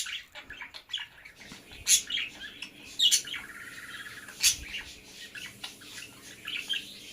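Pet parrots chirping indoors, with sharp bursts of close, loud tweets and calls separated by short pauses and softer chatter, plus a faint watery rustle.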